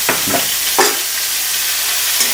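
Ground spice paste with eggs being sautéed in a pan for a soybean and egg curry, heard as a steady close sizzle with a few short scraping stirs near the start and one more near the end.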